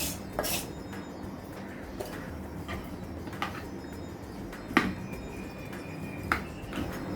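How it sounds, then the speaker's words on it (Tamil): Spoon clinking against a bowl while fried okra is mixed into yogurt pachadi, with a few sharp metallic taps and scrapes over a quiet background, no talking. "இந்த வெண்டைக்காயை இப்போ இதில் கலந்துடலாம்"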